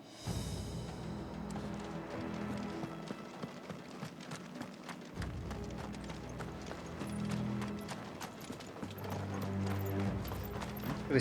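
Horse hooves clip-clop in Final Fantasy XVI, a rapid run of sharp, regular hoof taps over background game music, moderately close and steady throughout.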